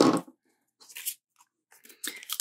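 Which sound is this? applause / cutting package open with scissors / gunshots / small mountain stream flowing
cutting package open with scissors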